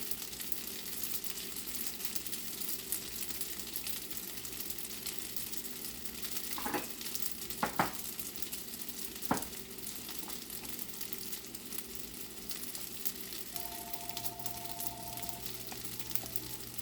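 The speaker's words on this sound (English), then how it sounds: "sauteed spinach with garlic" Spinach and garlic sauté in a pan with a steady, quiet sizzle that runs throughout, broken by a few brief clinks and scrapes of a utensil partway through.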